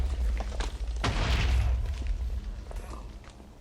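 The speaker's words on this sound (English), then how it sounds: "a load of explosions that occurred." Explosions in Minecraft with the GregTech: New Horizons modpack, a deep muffled boom rolling out with a few thuds around it, moderately loud and somewhat distant, without talking.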